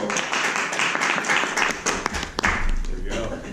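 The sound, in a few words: applause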